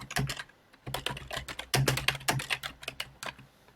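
Quick bursts of keystrokes clatter on a computer keyboard, close and crisp, with short pauses between clusters of taps; no voices.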